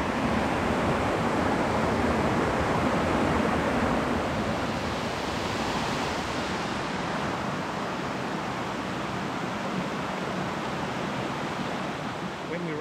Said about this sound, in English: There's waterfalls. How pretty is that?